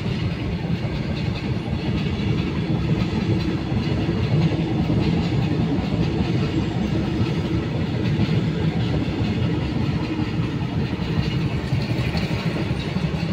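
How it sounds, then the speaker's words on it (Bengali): A train rolls past a railway level crossing while a car waits nearby, making a continuous low rumble with rhythmic wheel clatter that stays steady and fairly loud throughout, with no voices. "রেল ট্রেন যাচ্ছে কিন্তু গাড়িটা হালকা কাঁপছে"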